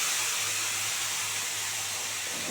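Spice paste of chilli, onion, garlic, green and red chillies and ginger hits hot oil in a pan, giving a loud, continuous broadband hiss and sizzle that holds steady with no talking.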